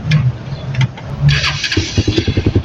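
A Bajaj Pulsar NS150 motorcycle, freshly fitted with a new spark plug, cranks with short starter bursts, then catches and settles into rapid, even engine pulses close by.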